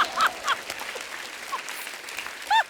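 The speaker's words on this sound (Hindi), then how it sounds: "जब मैं जीतता हूँ ना तो लोग ऐसे ताली बजाते हैं" A burst of audience clapping on a comedy talk show stage, a dense patter of many hands with brief whoops rising over it, steady throughout and swelling again near the end.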